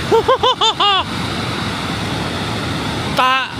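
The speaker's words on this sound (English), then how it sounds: "The amount of water coming down there is insane." A broad, steady roar of a waterfall with heavy spray fills the background while a person speaks briefly at the start and again near the end.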